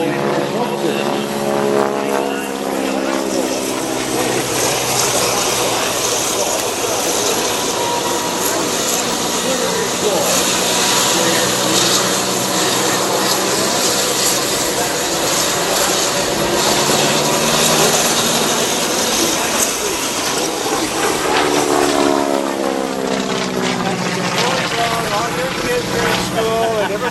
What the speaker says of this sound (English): Lots of smoke coming off of the exhaust of that engine.